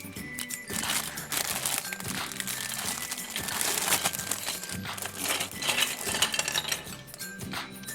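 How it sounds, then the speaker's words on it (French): Plastic bags of LEGO Duplo pieces being opened, with steady crinkling and rustling of plastic mixed with light clinks of the bricks, close up, with no talk. "il est temps à présent d'ouvrir les deux sachets de pièces"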